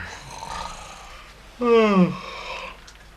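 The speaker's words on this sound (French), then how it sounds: "Il ronfle." A man snores in a 1960s French radio drama, one loud drawn-out snore in the middle over a faint background.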